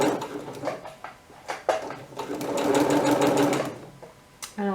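A sewing machine stitching ribbon onto a straight dress, running slowly in short bursts of rapid needle clatter with brief pauses, then a longer steady run and a final quick burst.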